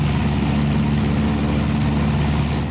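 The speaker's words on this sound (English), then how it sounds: "you can hear the hum of the engines" Aircraft engines hum in an aviation classroom, a loud, steady low drone that fills the space with no voices over it.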